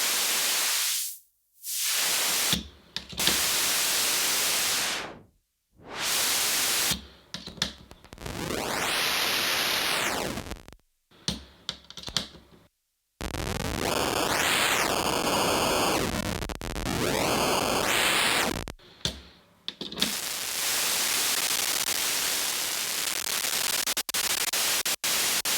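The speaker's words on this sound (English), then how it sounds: "It's a noise generator, it's also a bit crusher, and you can actually use it as a filter as well." A Dreadbox Dystopia Eurorack noise generator and bit crusher module hisses out loud broadband static, switching on and off in blocks and sweeping through filtered and whistling tones.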